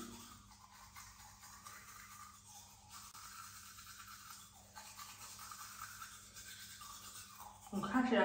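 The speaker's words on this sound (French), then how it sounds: "Et ensuite, vous lavez les dents." Teeth brushed with a toothbrush dipped in strawberry whitening powder, giving a steady close scrubbing that runs the whole time, with a louder burst of rubbing near the end; no talk over it.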